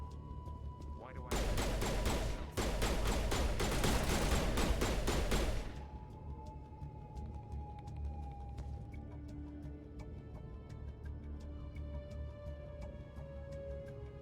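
Turret gunfire in the video game Mass Effect: a dense, loud stream of rapid shots lasting several seconds, then a lower hum with faint tones and soft ticks.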